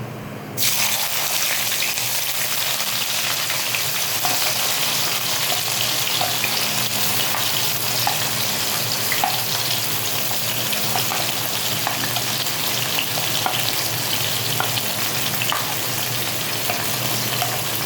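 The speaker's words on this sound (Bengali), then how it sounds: "পেঁয়াজ রসুনটা একটু লাল করে ভেজে নিতে হবে" Chopped onion and garlic, added after black cumin seeds, fry steadily in hot oil for a Bengali fish curry, a loud, continuous sizzle with occasional stirring clicks, running alone from start to finish.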